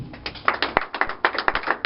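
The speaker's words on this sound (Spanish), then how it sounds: "Dale un aplauso al Señor Jesucristo." In a church, a few people clap in short, uneven bursts, close and moderately loud, with taps overlapping and no sustained crowd roar.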